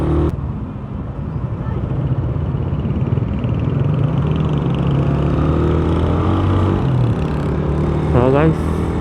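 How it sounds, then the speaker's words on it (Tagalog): A noisy Suzuki Raider 150 motorcycle engine with a carburetor problem idles steadily and close by, a continuous rough drone with a brief faint voice near the end. "Isip ako ng isip sa motor ko na to kung ano ba talaga yung umiingay na yun."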